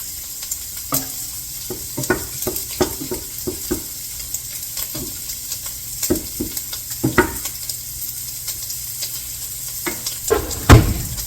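Sausages for gumbo fry and brown in a pan with a steady sizzle, punctuated by frequent scraping and tapping of a utensil against the pan, loudest near the end.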